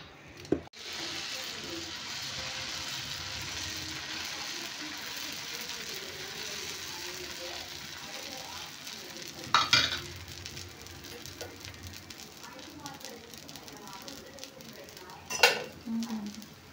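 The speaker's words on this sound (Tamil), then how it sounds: "கம்பு தோசை ஊற்றிடலாம்." Pearl millet (kambu) dosa batter sizzles on a hot pan in a steady, moderate hiss, with two sharp utensil clatters partway through.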